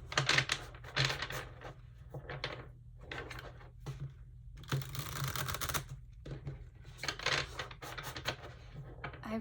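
Tarot cards riffled and shuffled by hand in a reading, close and crisp, with bursts of rapid flicking and slapping separated by short pauses.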